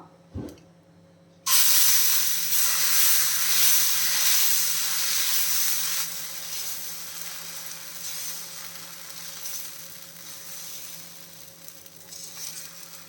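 Green gram dosa batter, made without rice, hits a lightly oil-greased hot pan after a brief clatter, erupting in a loud, steady sizzle that slowly softens as it keeps hissing.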